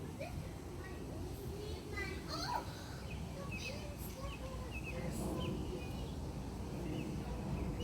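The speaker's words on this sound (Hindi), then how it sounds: "मीठी मीठी चहचहाहट सुन ही लीजिए" Small birds chirp and tweet in short scattered calls over a busy outdoor background of distant voices and rustling.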